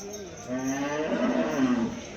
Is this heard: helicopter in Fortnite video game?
no